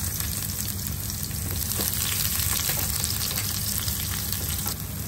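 Shallots frying in hot oil as the tempering for a Kerala-style pomfret curry, a steady, close sizzle that holds at an even level for the whole stretch with no talking.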